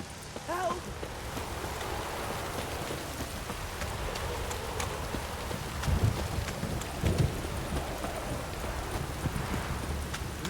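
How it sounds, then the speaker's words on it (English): Steady rain falls in a Witcher III game scene, a constant patter across the whole stretch, with a brief vocal sound early on and a couple of low thuds later. "If it don't stop raining,"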